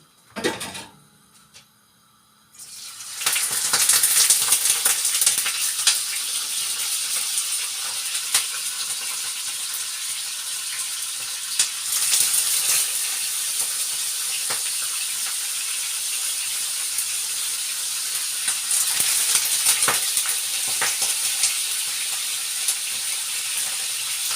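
Fish pieces sizzling loudly in a pan of hot oil, a steady close hiss that bursts in after a short quiet opening and holds through, with small crackles along the way.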